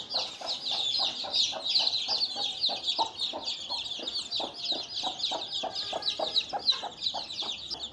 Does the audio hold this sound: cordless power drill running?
no